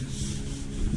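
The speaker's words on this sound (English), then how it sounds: "And some sanding." Steady abrasive rubbing of sandpaper on a painted wooden stairway inside a house under construction, a continuous close scratching hiss for the whole second with no pauses.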